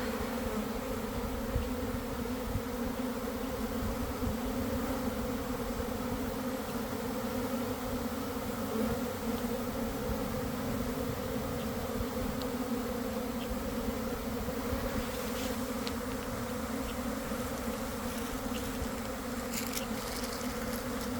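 A honeybee swarm drones in a dense, continuous buzz with a steady hum that holds evenly throughout and no one speaking.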